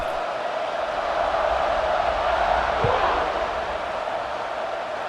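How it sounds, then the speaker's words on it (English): Stadium crowd in EA Sports College Football 26 roaring with a steady, dense buzz of cheering voices throughout, loud and continuous with no clear break. "this crowd is buzzing after that last score"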